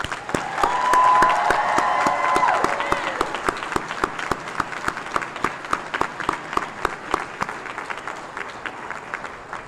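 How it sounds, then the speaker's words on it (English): Graduation ceremony crowd applauds the graduates, a loud swell of many hands at first that thins into scattered, distinct claps, with some murmuring voices in the hall. "One more round of applause for the graduates."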